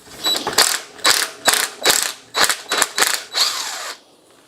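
A wrench ratchets in short bursts while loosening an old brake pipe on a forgotten barn-find BMW, about eight sharp clicking pulses close up, ending with a longer rasping turn and then quiet.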